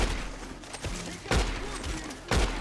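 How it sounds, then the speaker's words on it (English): Gunfire in the Western video game Red Dead Redemption 2, three sharp shots spaced about a second apart over a background of ambient game sound. "I'm not really good at shooting in this game."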